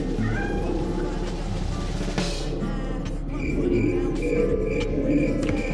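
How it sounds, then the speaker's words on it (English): A cat meows a few times inside the Lethal Company video game, as short thin calls over a steady low game-ambience hum, with faint insect-like chirps in the background. "it's just a normal cat now"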